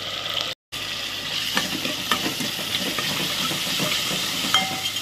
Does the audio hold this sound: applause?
no